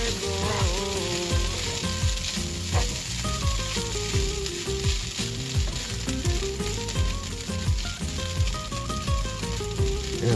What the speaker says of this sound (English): Give that a bit of a stir.